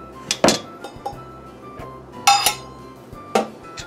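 Flour being mixed by hand into cookie dough for Swedish jam thumbprint cookies, heard as a few scattered clinks and knocks of a utensil against a bowl, close but sparse, with quiet gaps between strokes.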